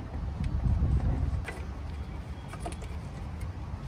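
A 1986 Chevy S10 Blazer engine with a runaway idle fault runs at idle, a low steady rumble mixed with wind-like noise and no talking.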